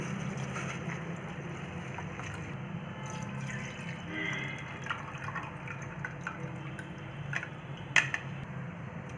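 Flattened rice (poha) is washed in water, with soft continuous sloshing, dripping and splashing at moderate level and one brief sharper clink near the end.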